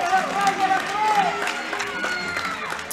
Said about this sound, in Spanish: Se llevan el aplauso